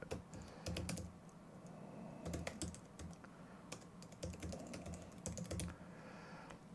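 Rapid typing on a computer keyboard while entering client details into photography CRM software, with bursts of keystrokes and brief pauses, close and steady, no talk.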